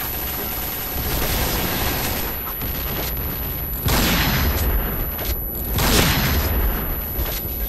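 Loud bursts of video-game gunfire and explosions in a sniper match on a Blow City map, with repeated rapid shots, a booming grenade blast near the four-second mark and another burst near six seconds, dense and continuous throughout.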